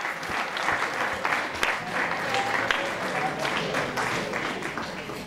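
A church congregation claps steadily through a reconciliation-day gathering, a dense, continuous burst of applause from a large crowd at moderate distance.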